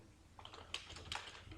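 Rapid, light typing on a computer keyboard while starting a new blank Google Docs document, a brief cluster of close, soft key clicks with irregular rhythm, heard alone without speech.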